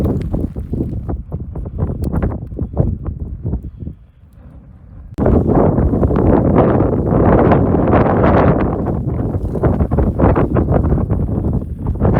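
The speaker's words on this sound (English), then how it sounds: "Sorry about the wind, it's going to be a windy one tonight." Strong wind blowing hard outdoors at night, a loud continuous roar buffeting the microphone, dipping briefly before surging back even stronger, with no voices over it.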